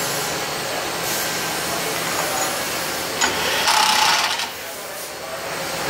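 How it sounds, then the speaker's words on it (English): On a Shizuoka vertical machining center, an impact wrench ratchets during a manual tool change: a steady mechanical whirring and grinding, with a louder rattling burst near the end, under faint background noise. "Oh, that's the ratchet. That's the impact wrench."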